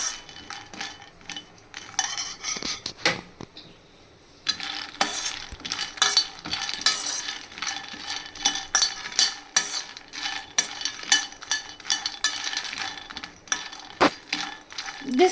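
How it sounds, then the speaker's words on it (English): A spoon scrapes and clinks through carrot rice paste, makhana and ghee as they are toasted and stirred in a pan, giving irregular, fairly quiet metallic scrapes and taps with a brief pause early on. "Now we can transfer the carrot rice paste into the milk and add the makhana and some ghee and toast it."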